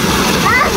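Quick splashing of cold water during bathing, a short burst of sloshing mixed with voices talking close by.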